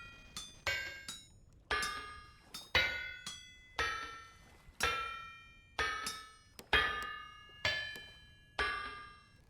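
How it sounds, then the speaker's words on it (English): An iron plate is hammered on an anvil in the game Vintage Story: about a dozen sharp, ringing metallic clangs in a steady rhythm, each fading before the next. "Iron plate. Okay, yeah, this starts hammering it out."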